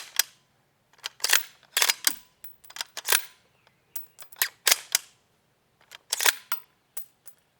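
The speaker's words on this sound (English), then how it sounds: "so that just shows you cycling a few rounds and what it looks like" An Uintah Precision bolt-action AR-15 has rounds cycled through it by hand, giving a string of sharp, close metallic clacks and clicks in irregular pairs and clusters with quiet gaps between them.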